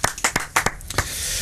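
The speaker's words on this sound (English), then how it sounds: "Yeah, a round of applause." A handful of people clapping in a small room, a quick run of sharp, uneven hand claps close by that thins out after about a second.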